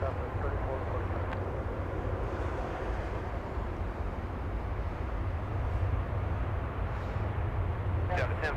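A heavy Airbus airliner bound for Doha rolls for takeoff on runway 24 left at Los Angeles International Airport, a steady broad engine roar held at even loudness throughout, with faint higher tones near the end.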